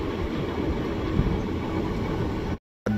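Passenger train running on rails in India, a continuous close rumble and rattle of wheels and carriages, steady and loud, cutting out abruptly to silence near the end before resuming.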